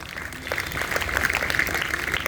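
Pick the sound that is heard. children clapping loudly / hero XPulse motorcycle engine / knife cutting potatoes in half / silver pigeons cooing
children clapping loudly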